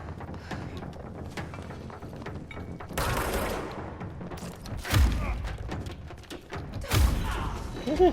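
Gunfire aimed at the player in the video game Control: bursts of shots and heavy thumps at roughly 3, 5 and 7 seconds over a constant busy background of game noise and impacts.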